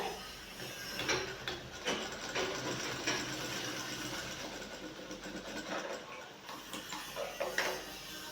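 A sewing machine stitching a shirt pocket runs in a rapid mechanical ticking rhythm with short bursts and brief pauses, close but fairly quiet.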